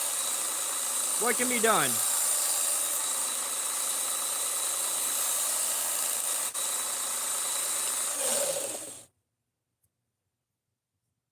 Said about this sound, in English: I'm just sharpening this thing on the belt grinder real quick